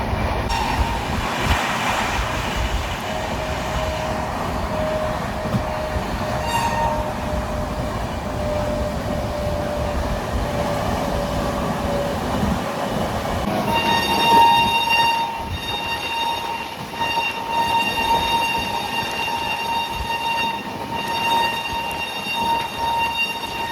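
A Vande Bharat Express running at high speed, heard from on board as a steady, loud rolling rumble with constant rail noise, joined partway through by a thin, sustained whine riding over the roar.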